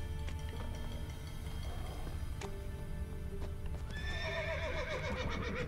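Horse whinnies and clip-clopping hooves from The Witcher 3 play over steady game music, a long rising neigh standing out near the end.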